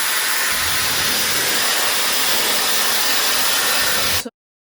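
A loud, steady rush of blowing hot air from a Dyson Airwrap hair styler runs without a break, then cuts off abruptly near the end.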